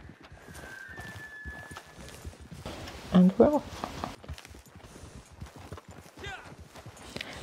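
Horses clip-clop along a trail in the video game Red Dead Redemption 2, a quiet steady hoof rhythm under a voice, with a louder thump near the middle.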